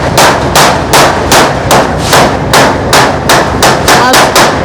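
A hammer strikes repeatedly during construction work, about a dozen loud, sharp blows in a fairly regular rhythm, close by.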